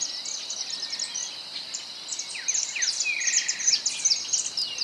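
A white-browed spinetail (Cranioleuca pyrrhophia) gives a run of high, thin chirps and trills. They sound fairly close and clear over a faint background of insects, and no one speaks.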